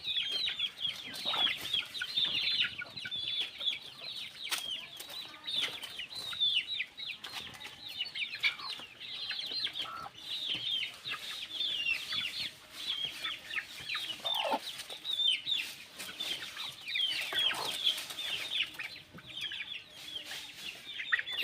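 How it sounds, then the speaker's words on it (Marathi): Free-range native hens in Ratnagiri, Konkan, cluck and squawk continuously in a busy flock, with overlapping calls close by and steady yard noise underneath. "प्युअर गावरान कोंबड्या आहेत"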